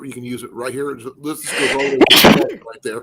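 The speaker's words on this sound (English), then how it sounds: "Gesundheit." A single loud sneeze bursts out in the middle of a livestream, landing between stretches of nearby conversational speech that continue before and after it.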